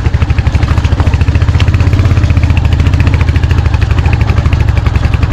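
Royal Enfield Hunter 350 motorcycle engine running on an unpaved off-road village track, a loud, close, steady single-cylinder thump with a rapid regular pulse and rattly clatter, holding at a near-idle throughout with no voices.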